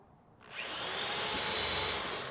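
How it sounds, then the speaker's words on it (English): A power drill driving fasteners into a compost bin spins up sharply and whirs steadily at close range for a couple of seconds, with a high-pitched motor whine. "3 of the fasteners and a drill."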